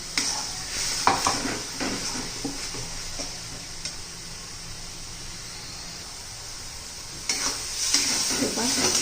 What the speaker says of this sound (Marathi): ती आपण तेलामध्ये चांगली परतून घेणार आहोत, कारण कच्चा कांदा आहे